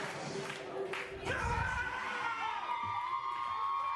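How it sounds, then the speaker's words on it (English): A professional wrestling crowd roars and shouts as Chuck Diamond makes his entrance, a steady wash of cheering and whoops at moderate distance with a brief swell partway through and voices mixed throughout. "they're getting the crowd pumped up"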